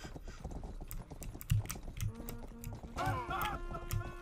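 Horse hooves clip-clop in the western game Rustler, a loose series of near, hollow knocks over background game noise, with a brief whinny-like cry near the end.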